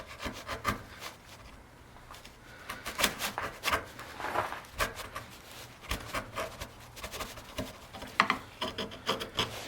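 A hand tool cleans up a wood edge in a series of close, uneven scraping and rasping strokes, with rough bursts of rubbing repeating irregularly throughout at a fairly quiet level and no talking.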